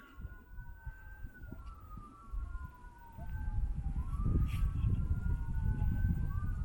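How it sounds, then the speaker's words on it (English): Distant emergency sirens wail and sweep up and down over an outdoor background rumble that grows louder midway. "It's those sirens, they kind of got them perked up."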